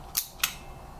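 Two quick mechanical clicks about a quarter second apart, close and crisp, as a Beirette SL300 film camera's shutter fires and resets, against quiet background.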